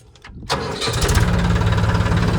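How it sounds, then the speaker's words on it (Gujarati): A Massey Ferguson 244 tractor cranks briefly, then its engine catches and settles into a loud, steady, throbbing idle close by. "આ ટ્રેક્ટરનો આપણે ચાલુ કરીને અવાજ સંભળાવી દઈએ"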